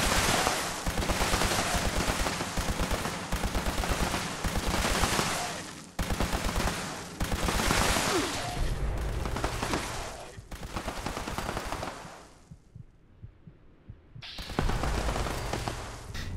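A quad-tuned automatic laser rifle with an ultra sight firing in Fallout 76, heard as long, loud, rapid bursts of buzzing energy shots that stop briefly, resume, break off in a quiet gap, then start again.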